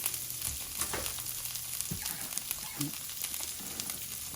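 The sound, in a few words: diced potatoes and onions frying in a skillet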